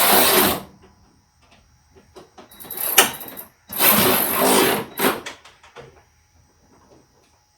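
A Ryobi P344 ONE+ cordless power ratchet runs on bolts in three short, loud whirring bursts separated by quieter pauses and small handling clicks.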